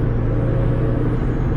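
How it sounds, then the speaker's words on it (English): A Blitz SUS metal mesh air filter on a Mitsubishi Evo draws air with a loud, steady whooshing roar and low engine drone, a faint high whistle riding on top, heard from inside the car. "Hopefully you can hear the air filter a little bit from inside the car"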